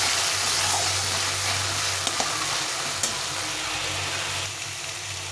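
A spice masala with Kashmiri chili powder and potatoes sautés in a pan, giving a loud, even sizzle close by, with a couple of brief clicks of stirring and no voices.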